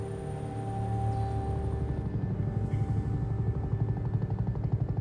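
A helicopter in flight on a cold night near Mount Hayes, Alaska, its steady engine drone growing into a pulsing rotor chop that thumps rhythmically, fairly close and alone with no talk.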